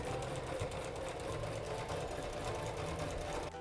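A sewing machine stitches a punch needle cushion in one steady, fast, close mechanical hum with rapid even needle beats, running alone and stopping right at the end.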